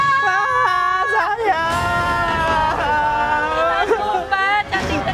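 A woman screams in terror during a horror prank, high wavering shrieks rising over loud crowd babble and overlapping voices, close and continuous.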